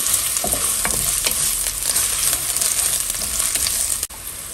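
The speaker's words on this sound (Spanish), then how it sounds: "Voy a agregar el ajo y la cebolla en una cacerola. Y voy a dejar que se cocine." Chopped garlic and onion frying in a pot, a loud continuous close sizzle with scattered stirring clicks, ending in a brief sharp dip near the end.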